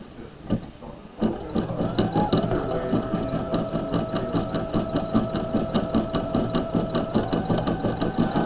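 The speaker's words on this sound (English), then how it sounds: "the nice thing about the Aurora is it's a combination sewing embroidery machine combination" An Aurora combination sewing and embroidery machine stitching a monogram runs at a steady, rapid mechanical rhythm of needle strokes. It starts after a brief quieter moment and stays close and even throughout.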